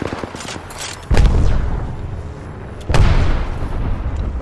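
Gunfire in an Apex Legends match: two loud, close bursts of shots land about two seconds apart, each followed by a rumbling tail of further shots and impacts.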